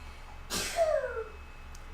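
A single sneeze bursts out near the mic during a tabletop card game, sharp and brief, followed by quieter voices.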